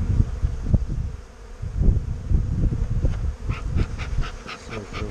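Bees buzzing in a dense, busy drone, close by at an opened hive during spring apiary work, with irregular bumps and rustling frame-handling noises throughout.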